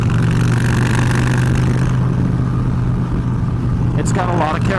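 A Honda Fury motorcycle engine rumbles loud and close with a deep, steady throb that eases off midway, and a voice briefly cuts in near the end.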